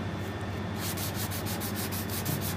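Sandpaper rubs steadily over a fishing rod's cured finish to scuff it, giving a close, continuous, even hiss with faint rhythmic strokes and no voices.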